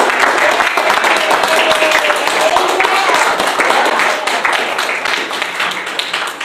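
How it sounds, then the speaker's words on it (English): Steady applause from a church congregation, dense clapping that holds at an even level throughout with a few voices mixed in. "A round of applause for our winner today."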